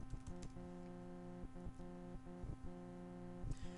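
Faint keystrokes tap on a computer keyboard in a sparse, uneven rhythm of single clicks, sitting under a steady low electrical hum.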